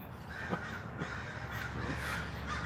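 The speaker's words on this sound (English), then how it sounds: "I had a few crows screaming." Several crows caw repeatedly in harsh, rasping calls, fairly close, over a low steady background hum.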